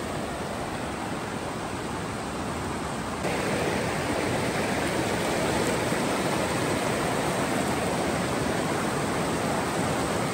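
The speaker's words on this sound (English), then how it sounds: "Here's the main creek." A raging mountain creek rushes past close by, a loud, constant roar of churning whitewater with no breaks, swelling slightly louder partway through.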